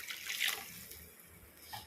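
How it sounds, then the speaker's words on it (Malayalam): Water poured into a pan of Kerala-style matthi (sardine) fish curry, a short splashing pour that trickles off into a softer dribble, close and alone. "ഇതിലേക്ക് ഞാൻ ആവശ്യത്തിന് വെള്ളം ഒഴിച്ചെടുക്കണേ"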